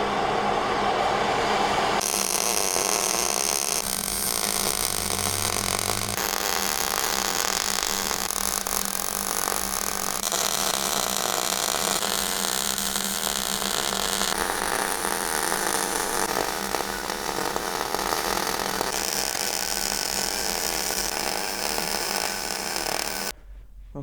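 Quarter-inch-thick steel being welded in a performance auto shop: a loud, continuous buzzing crackle that holds steady for about twenty seconds and breaks off abruptly at the end.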